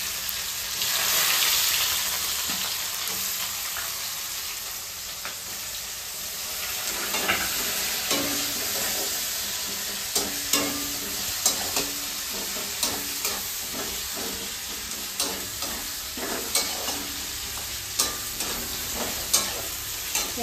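Onion frying in hot oil with cardamom, cloves and cinnamon for a mutton and potato curry: a continuous bright sizzle with regular spatula scrapes and clacks against the pot, close and fairly loud.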